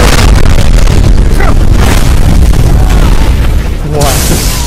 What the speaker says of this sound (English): Who is sending nukes to my location?